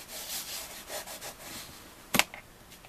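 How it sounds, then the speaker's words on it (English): Paper being burnished flat onto a handmade craft page, a soft repeated rubbing and sliding close by, followed by one sharper brief scrape near the end, with no talking. "So we can burnish this down."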